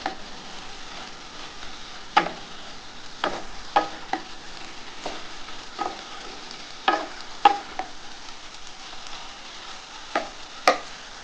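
Ridge gourd and potato cooking in poppy seed paste crackle softly in a pan, with scattered sharp clicks and scrapes of a utensil stirring at irregular intervals, no voices.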